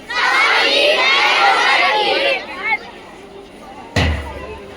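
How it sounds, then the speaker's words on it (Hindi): Crowd of children shouting and cheering loudly at a school street play, a dense roar for about two seconds that then fades, followed by a brief low thump. "अरे भाई क्यों इतना शोर मचा रखा है और इतनी सारी भीड़ क्यों लगा रखी है?"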